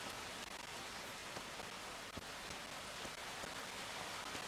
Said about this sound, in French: il commence à bien pleuvoir là